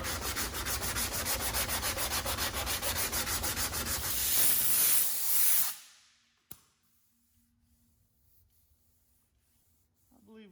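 Hand sanding car body filler on a BMW with 180 grit sandpaper: steady rhythmic rasping strokes, close and loud, for about six seconds, then stopping, with a single knock and faint quiet rubbing afterward.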